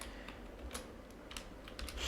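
Quiet, rapid keystrokes on a computer keyboard while writing Python code, a light irregular patter of clicks close by over faint background hiss, no speech.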